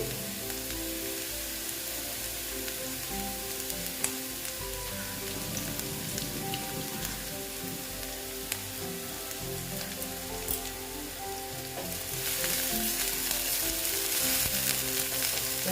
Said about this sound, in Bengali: দেখো আমি পেঁয়াজটা ভালো মতো ভেজে নিচ্ছি